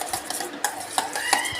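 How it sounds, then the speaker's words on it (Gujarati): A spoon stirs curd mixed with garlic in a bowl for cucumber raita, giving a handful of close, sharp clinks and soft wet scrapes in an uneven rhythm. "આ રીતે મિક્સ કરી દેવાનું આપણે"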